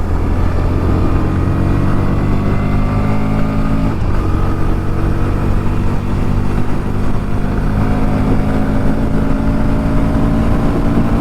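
A 2023 Bajaj Pulsar NS160 motorcycle with dual-channel ABS riding along, its engine droning loud and steady with a continuous harmonic hum under rushing wind, no talk.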